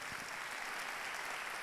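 An audience at a large business summit keynote gives a round of applause, a brief, steady wash of many clapping hands at low volume.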